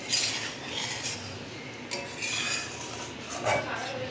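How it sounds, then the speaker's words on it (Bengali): Cream is stirred for ghee in a kadai over a low flame, with a soft background hiss and intermittent light metallic scraping and clinking of a spoon against the pan. "হালকা করে গ্যাসটাকে সিম করে নাড়াচাড়া করতে হবে"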